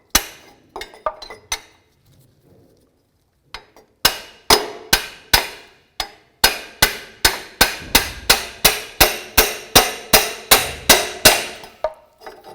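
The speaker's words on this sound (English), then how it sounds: "then we'll tap it with the hammer" A steel hammer taps a punch held against the back of a front CV axle on a 2008–2012 Ford Escape, a few scattered strikes and then a long run of steady, ringing metallic blows, close and loud.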